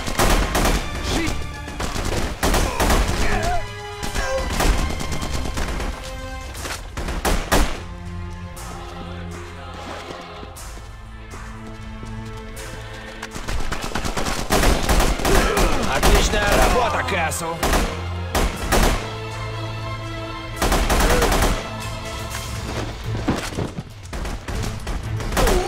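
Heavy gunfire in The Punisher video game: repeated loud bursts of automatic fire and single shots in uneven clusters, close and dense, with brief lulls between volleys and voices now and then in the mix.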